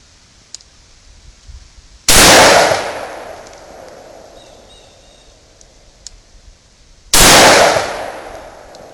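Two loud sharp revolver shots from an S&W Governor firing staggered loads, about five seconds apart, each a sudden blast with a ringing decay, with faint clicks between.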